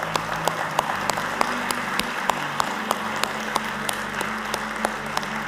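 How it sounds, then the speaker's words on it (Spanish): A church congregation claps together in steady, sustained applause for the Lord, a dense even patter of many hands at moderate volume with no voices over it. "le damos un fuerte aplauso al Señor."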